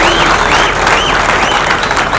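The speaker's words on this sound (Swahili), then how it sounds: "tupigie viongozi wenu wapya ambao mmeona katika ofisi yenu, wapigieni makofi mazuri" A church congregation applauds its newly installed leaders with loud, dense, sustained clapping and a few high wavering cheers riding over the crowd.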